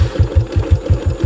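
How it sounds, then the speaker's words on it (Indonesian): A motorcycle engine fitted with a KNZ carburettor idles with a raised throttle setting, putting out a steady, close low thumping pulse at a fast regular rhythm with no talk over it. "Dia waktu habis ku pasang kemarin kan dia langsung mati, jadi ku besarin jadi dia bisa idle seperti ini ya kan."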